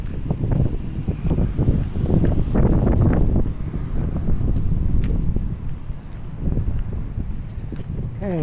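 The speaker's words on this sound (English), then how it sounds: "very windy right here" Strong gusts buffet the microphone on a city street, a heavy low rumble that surges and eases, with a few scattered footsteps or knocks mixed in.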